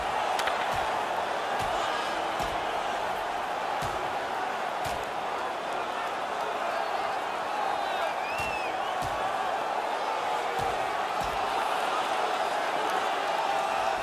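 Hockey arena crowd roaring steadily during a fight in a rivalry game, a dense continuous wall of cheering with occasional sharp slams and whoops, heard alone without commentary.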